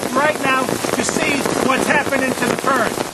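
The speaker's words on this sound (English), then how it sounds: "this is the type of heavy rain that you need to make sure that the resurrection ferns become resurrected" Heavy rain pours steadily onto resurrection ferns (Pleopeltis polypodioides) growing outdoors, a dense constant hiss and patter, close and loud, with someone talking over it throughout.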